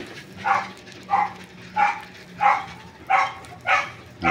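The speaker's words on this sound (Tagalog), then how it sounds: "Marami kong asong pinapakain ng tinapay." Several dogs being fed bread bark in short bursts, about six evenly spaced barks over a few seconds, fairly close, with no talking.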